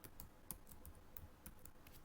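Quick, faint keystrokes on a computer keyboard as a captcha is entered during an online login, irregular clicks tapping out over about two seconds with no voices.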